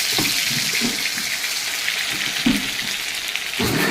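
Ginger paste added to hot oil tempered with cloves: a loud, continuous hiss and crackle of frying, near and steady, with a few soft stirring knocks underneath and no talking.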